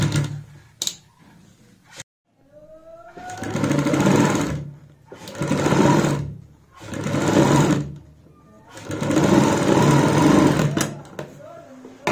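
Bursts of a domestic sewing machine stitching a kurti neckline, several runs of steady whirring with short pauses between them, loud and close, with no talk over it.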